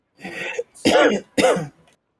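Three short, harsh coughs in quick succession, close and fairly loud, with brief pauses between them.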